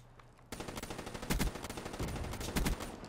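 HVK-30 rifle in a video game fired in rapid bursts: a steady rattle of close, loud shots starts after a brief quiet opening, with heavier punchy bursts standing out twice near the middle and end.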